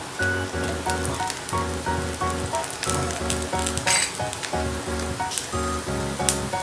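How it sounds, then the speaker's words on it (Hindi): Rice roti cooking in ghee on a hot tava, a steady close sizzle running throughout over a regular, pulsing tonal background that sounds like music. "देखिए चावल रोटी तवे पे पक रही है।"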